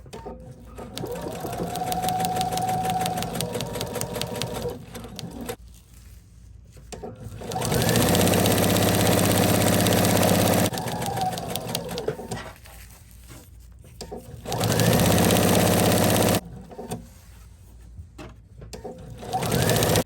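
A sewing machine fitted with a walking foot and a 90-14 stretch needle, set to a 3.5 stitch length, stitches Blizzard Fleece in three long steady whirring runs separated by short pauses.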